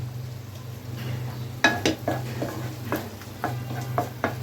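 Brain curry (mogoj bhuna) being stirred in a pan just after lemon juice is added, a low hum underneath with several distinct clinks and scrapes of a spoon against the pot, fairly close and moderately loud.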